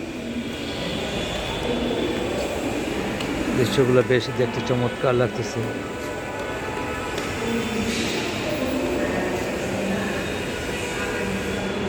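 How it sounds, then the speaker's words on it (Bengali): Metro rail train at Kazipara station: a low rumbling rolling sound swells to a peak with rhythmic rattling, then fades into steady background hum while someone talks over it. "মেট্রো রেলে আগমন"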